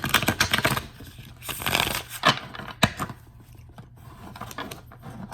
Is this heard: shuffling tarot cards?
yes